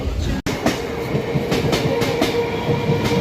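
A passenger train rolls steadily along the rails with a continuous rumble and rhythmic clatter, close and loud throughout, with one brief dropout near the start.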